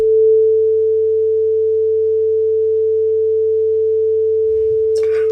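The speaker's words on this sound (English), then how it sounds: "Now a simple sinusoidal sound." A simple pure sinusoidal tone holds steady and loud for several seconds, alone, with a faint low hum beneath and a brief soft noise near the end.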